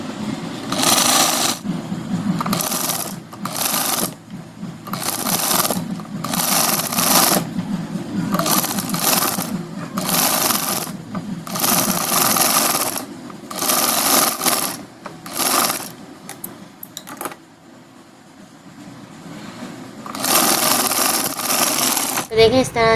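Sewing machine stitching along the crease line of an umbrella sleeve, running in repeated bursts of rapid mechanical clatter with brief pauses between, loud and close, with someone talking at times.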